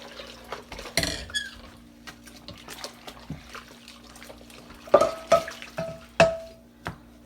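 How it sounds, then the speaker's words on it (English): A polished Saladmaster pan being rinsed under running water. Intermittent splashing and faucet flow mix with several sharp metallic clanks and rings of the pan, close up and with no talking. "now once I rinse it, it should look really nice and shiny new"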